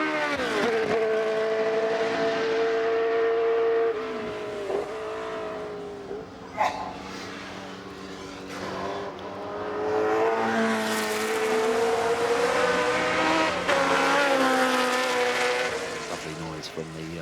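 A historic BRM race car at the Goodwood Festival of Speed hill climb, its engine note loud and sustained, rising and falling through gear changes and a brief crackle mid-run, with a commentator talking over it throughout.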